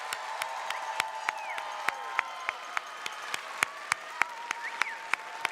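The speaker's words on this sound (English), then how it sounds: "Can we give them a round of applause?" Sustained audience applause at a high school graduation ceremony, scattered claps over a steady crowd wash with a few louder sharp claps standing out, moderately distant and continuous throughout.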